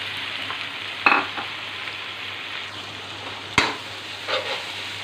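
Village-style bottle gourd daal with paste sizzles in a pan as it is stirred. A constant loud frying hiss is broken by two sharp spoon scrapes and a softer stir stroke.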